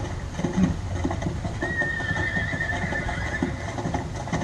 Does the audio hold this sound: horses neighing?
yes